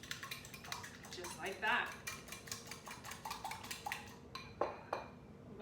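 A fork whisks two eggs, one brown and one white, in a bowl, giving a fast run of close, bright clinks and scrapes against the bowl, with a brief spoken remark near the end.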